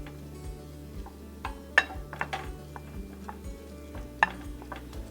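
Shrimp sautéing in olive oil and butter in a pan for a New Orleans shrimp, crab and corn bisque: a soft, faint sizzle under a low steady hum, with a few sharp utensil clinks against the pan.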